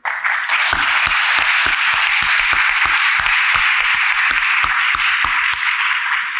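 Audience at a Salem mayoral candidate forum applauds to welcome the moderator, a steady burst of clapping from a room full of people that holds at an even level throughout.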